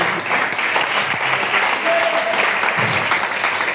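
A church congregation bursts into loud, sustained applause for the Lord, dense clapping filling the room evenly from start to finish with a faint voice beneath.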